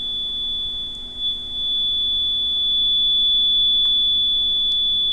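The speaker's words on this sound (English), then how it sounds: "I am keeping the microphone near this buzzer" A steady electronic buzzer tone sounds continuously right beside the microphone, a single unbroken high-pitched whine that holds for the whole stretch over a faint low hum, with no voices.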